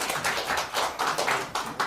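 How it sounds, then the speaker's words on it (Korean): Audience applause closing a women's organizations' policy meeting, a steady burst of clapping from a room of attendees lasting the whole moment, fairly close and even in loudness. "박수로 마무리해주세요."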